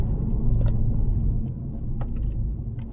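A Mk5 Golf GTI under full throttle in third gear with its turbo boost coming on, a loud, steady low engine rumble with faint whooshes and clicks on top, and no talk.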